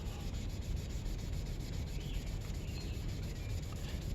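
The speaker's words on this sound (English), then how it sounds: "I just basically am gonna put some acetone on the steel wool, like so," Acetone-soaked steel wool scrubs a yellowed steel fork tube from a vintage Yamaha in a steady, unbroken rasping rub that stays close and fairly loud, with no voices.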